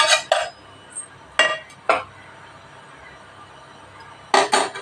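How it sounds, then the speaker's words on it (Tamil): Ghee smeared around the inside of a metal cooking vessel for coconut milk vattalappam, heard as a few separate scraping clinks of utensil on metal with quiet gaps between them. "நெய் சேர்த்துக்கிட்டு இது எல்லா பக்கமும் படுற மாதிரி தடவிக்கலாம்"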